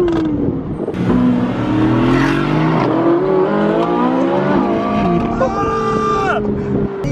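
A Ferrari 458 Spider engine revs hard, its pitch climbing through several gear changes as it accelerates, loud and close, with talking over it.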